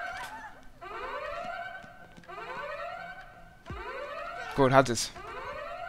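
A rising, wailing alarm in a Payday 2 heist repeats in steady sweeping cycles, with a brief clattering burst and a few spoken words near the end.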